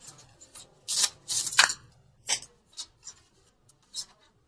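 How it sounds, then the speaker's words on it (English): Tarot and angel cards being shuffled up close in several short riffling bursts, irregular and crisp, with quiet gaps between them. "keep shuffling"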